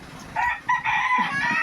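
A rooster crows nearby, a loud, clear cock-a-doodle-doo with a short break partway through.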